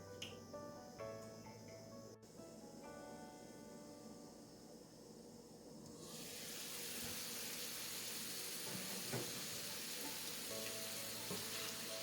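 Asparagus cooks for pickle in a covered pan, giving a faint, steady sizzle that swells into a broader, louder hiss partway through, with no talking.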